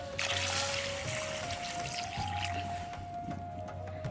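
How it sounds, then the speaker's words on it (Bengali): Water is poured into a cooking pot for snails, a continuous close splashing trickle with a faintly ringing tone from the pot over a low background rumble. "জল দিয়ে দেব।"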